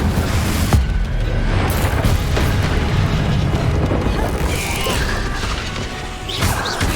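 Confringo blasting spell explosions in Hogwarts Legacy: a dense, continuous barrage of loud booming blasts and crashing impacts with rumbling debris, sustained and close throughout with no pauses.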